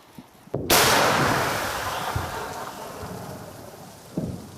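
A single heavy blast from a 2S1 Gvozdika self-propelled howitzer booms close by and rolls away over several seconds, with a smaller thud near the end.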